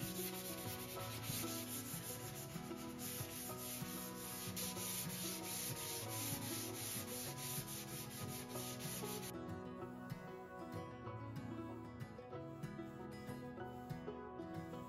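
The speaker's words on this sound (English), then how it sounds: "I always lightly hand sand with 400 grit sandpaper in between coats of paint" Hand sanding painted wood with 400 grit sandpaper between coats of milk paint on an antique hutch, a steady continuous rubbing scrape heard alone under tonal background sound that cuts out partway through.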